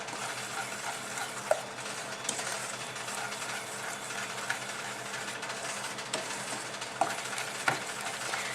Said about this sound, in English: Give it a good mix and make sure that it's all dissolved.